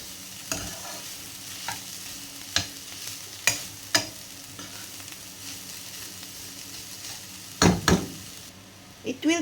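Ginger and garlic sautéing in a pan, with a soft steady sizzle under a series of distinct clanks and scrapes from a utensil stirring and mixing, close and fairly loud at intervals.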